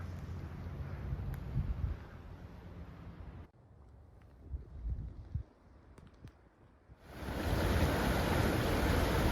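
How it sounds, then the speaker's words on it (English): Strong water flowing through a flooded, very high marsh in Marlborough Forest, Ottawa, in late winter: a steady broadband rush, loud at first, dropping quieter midway, then surging back louder and closer at the end. "Pretty strong water flow in there right now"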